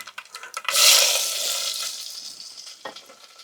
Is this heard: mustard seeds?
yes